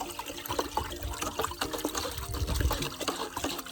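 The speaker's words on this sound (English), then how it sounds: "We just stir it." A stick stirs water in a barrel on a farm, producing close sloshing, swirling and trickling splashes in an uneven rhythm, with no talk.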